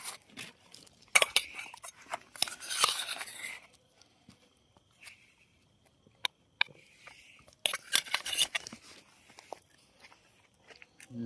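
Two eat together, with crunchy biting and chewing in bursts and clinks of dishes or cutlery at close range. Quiet gaps fall between the louder clusters.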